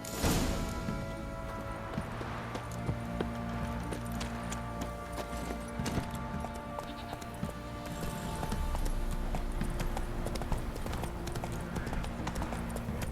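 The horse Roach gallops in The Witcher 3: Wild Hunt, with a continuous rapid clip-clop of hooves under game music and ambience, steady and moderately loud throughout.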